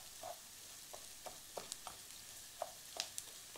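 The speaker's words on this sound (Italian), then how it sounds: "Versiamo il nostro riso, lo lasciamo soffriggere un po' con la cipolla" Rice fries with onion in a pan for risotto, a soft steady sizzle with occasional light pops and stirring clicks, quiet and close, without speech.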